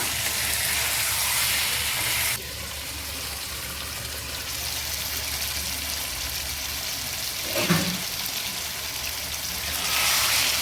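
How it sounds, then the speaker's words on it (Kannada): Punjabi chicken masala fries in a pan with a continuous close sizzling hiss that drops in level early on, then stays steady with a brief stirring scrape, without talking. "ಹೀಗೇನೆ ಫ್ರೈ ಮಾಡ್ಕೊಳ್ಳೋಣ."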